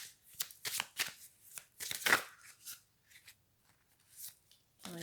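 Tarot cards are shuffled by hand in short riffling bursts, several quick crisp flurries separated by pauses, close and fairly quiet, with a voice heard at the end.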